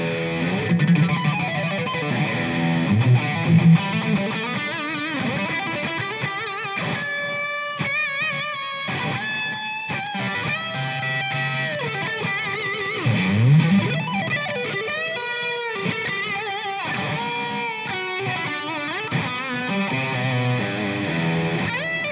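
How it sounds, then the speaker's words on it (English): Electric guitar played through a Marshall Code amplifier with a distortion pedal and delay repeats, sustained notes and chords ringing continuously, loud and thick with no voices. "I've added one of the pre-effects, which is actually a distortion pedal"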